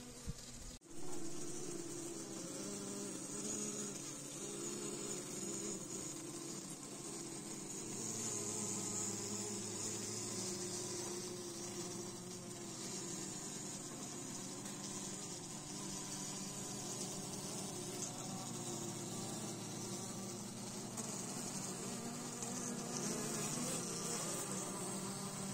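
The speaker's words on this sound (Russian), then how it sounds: "Тут, ребята, тихонько пчелы сидят тоже." A dense, steady hum of many honey bees buzzing close by in a hive during a late-winter inspection, continuous and even throughout with no voices.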